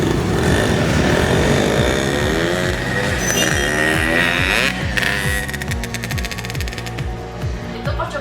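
A motorcycle engine revved hard and held at high throttle to push out exhaust smoke, a loud continuous roar with rising and falling pitch sweeps, close by and heard without talk.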